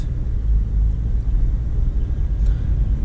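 A used car's engine runs on a test drive as a steady, low, droning rumble inside the cabin. It stays continuous and even for the whole stretch, with no other sounds.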